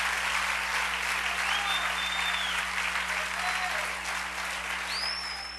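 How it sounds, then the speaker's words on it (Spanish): Loud, sustained applause fills a church congregation, a thick wash of clapping that holds steady and then starts to fade toward the end, with a faint steady hum underneath. "Denle un aplauso al Rey. Fuerte el aplauso,"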